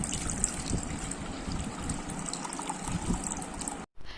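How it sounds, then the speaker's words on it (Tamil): Milk is poured into a large mixing bowl for chocolate pudding, making a steady close trickle with no pause for about four seconds before it cuts off briefly. "இதில் நம்ம எடுத்து வச்சுருந்த பால் சேர்த்துடலாம்"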